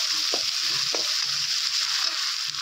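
Fenugreek seeds frying in hot oil, a bright steady sizzle close by with a few soft spoon taps and stirs over the top, no one speaking.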